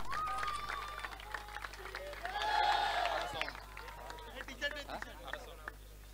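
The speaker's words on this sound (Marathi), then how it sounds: "जोरदार टाळ्या होऊन जाते" Applause and cheering from a crowd at a final match of a local cricket tournament, a distant, moderate burst of clapping mixed with murmuring voices and a speaking voice over it.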